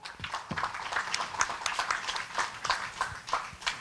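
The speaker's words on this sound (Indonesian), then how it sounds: "Bisa beri tepuk tangan buat Tuhan?" Congregation in a church clapping hands during a Christmas service, a steady dense patter of many claps filling the room with some voices mixed in.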